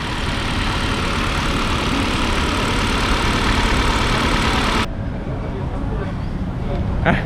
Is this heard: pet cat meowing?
no